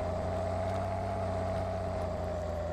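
Big John Deere tractor engine in the Farming Simulator 2013 game drones at a steady, continuous hum with a tonal whine, heard alone without talk.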